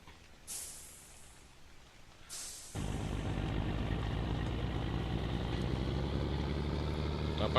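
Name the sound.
truck wheels spinning and slipping on mud in World Truck Driving video game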